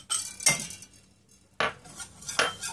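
Metal spoon clinking and scraping against a pot while melted butter and flour are stirred together, a few distinct sharp clinks spaced apart, close and moderately loud with no talking.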